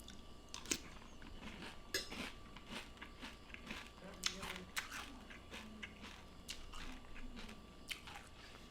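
Someone eats Kellogg's frosted cereal with milk from a flat bowl, close and quiet: soft irregular crunches and chewing, with a spoon clinking against the dish now and then.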